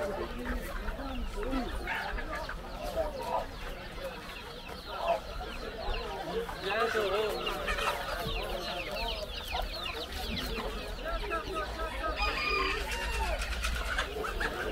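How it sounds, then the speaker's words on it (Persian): Chickens, roosters and pigeons crowd an outdoor poultry section beside a parking area at a bird bazaar in Tehran, with continuous clucking, cooing and scattered crowing over a busy background murmur and people talking throughout. "بازار پرندگان یه قسمتی هم داره که مخصوص مرغ و خروس و کبوتراست"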